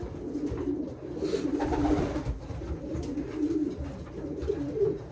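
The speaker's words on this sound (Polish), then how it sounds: "Podoba mi się bardzo ładny gołąbek." Young pigeons cooing steadily at close range, soft throaty coos repeating over a low rustling background with no talk.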